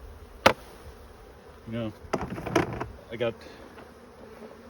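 Honeybees in an opened hive with the lid off and frames moved hum steadily in the background, with individual bees buzzing loudly past up close, alongside a few knocks and a brief spoken word.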